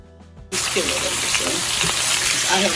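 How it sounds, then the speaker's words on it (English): Meat for a pot roast sears in a hot pan, a loud steady sizzle that bursts in after a brief quiet moment and carries on without pause, with no voices over it. "I'm continuing to sear my meat"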